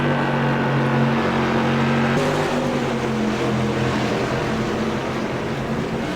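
SK Modified race car engines roar in an iRacing video game, a loud sustained droning whine from several cars that holds steady and shifts pitch partway through.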